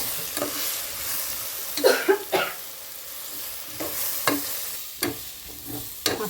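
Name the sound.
stirring chili powder masala frying in pan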